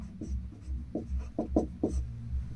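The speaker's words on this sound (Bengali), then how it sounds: "এগুলো দেখো পাশে পাশে এখানে লিখে দিচ্ছি" Chalk or marker taps and scratches on a board in a classroom lesson, several short quick strokes close by, faint and dry against a low background hum.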